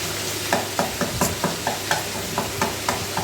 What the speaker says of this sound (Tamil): நல்லா கிண்டி விடுங்க. கிண்டி விட்டுக்கிட்டே இருங்க.